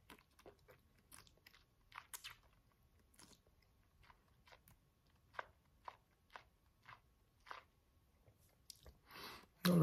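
Slow, deliberate chewing in the mouth while tasting Glen Moray 12 year old whisky: soft wet clicks and squishy smacks at irregular intervals, close and quiet, with a louder burst of wet mouth noise near the end.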